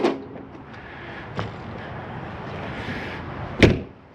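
The exterior door of a Stryker 3212 RV gives a soft thump as it is handled, a light knock, then a sharp, close slam as it shuts, with quieter handling noise in between.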